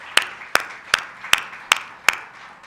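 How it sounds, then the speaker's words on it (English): Six sharp, evenly spaced single claps ring out close and clear at a congress closing ceremony, with no crowd applause behind them. "show our appreciation for Professor Ganpath with a round of applause."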